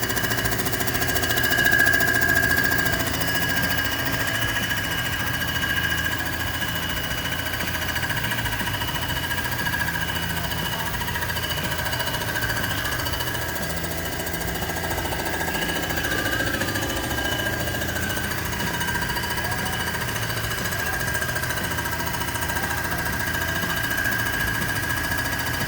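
A Comec ACF200 surfacing machine makes a second cleanup pass across the gasket face of an AMC 360 cylinder head. It gives a steady, loud mechanical grinding and whirring with a thin high whine running through it, unbroken and without speech.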